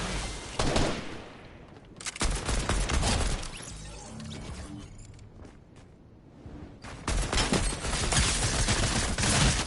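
Gunfire in the video game Fortnite: repeated bursts of rapid shots in clusters, loud and close, with quieter gaps of clattering and movement between volleys.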